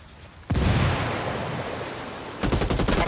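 Sustained heavy gunfire in a tactical shooter battle, Ghost Recon Wildlands, erupting loud and dense after a brief lull, then breaking into rapid distinct bursts of shots near the end.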